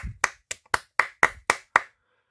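Eight crisp hand claps in a steady, fairly quick rhythm, close and distinct, then silence.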